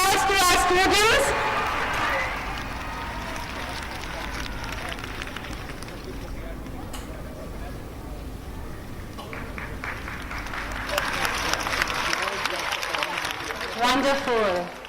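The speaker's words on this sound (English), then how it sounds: "Let us give a huge round of applause to our students." Crowd applause at a school event honoring students, a broad, sustained clapping wash swelling louder toward the end, with an announcer speaking over much of it.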